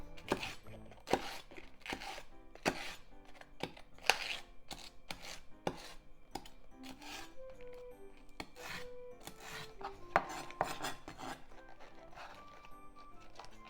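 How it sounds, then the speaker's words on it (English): A knife mincing Japanese leek, both green and white parts, on a cutting board: quick irregular chopping taps, close and crisp, with faint background music. "Japanese leek. Let's also mince it, both green part and white part."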